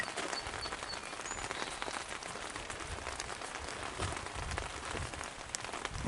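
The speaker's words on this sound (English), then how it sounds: "We're working in the rain here today." Steady rain falls outdoors during work on a 1970s–90s Mercedes-Benz fuel filler neck, a dense, even hiss of drops on surfaces filling the scene with no voices.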